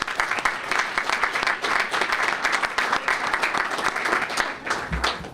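Attendees at a 2015 State of the City address break into applause, a continuous rattle of many hands clapping with slight swells, fading near the end as a low thump is heard.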